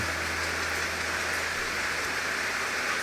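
Steady rain falls on a surface, producing an even, continuous hiss of many drops throughout, with no voices.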